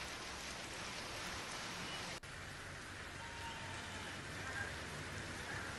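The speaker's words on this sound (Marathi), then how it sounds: "रात्रीच्या वेळी विजांच्या कडकडाटासह पावसानं हजेरी लावली" Heavy night rain falls on streets in Jalna district, a steady, even hiss of drops on the surface that continues throughout, faint and distant-sounding, with no talk.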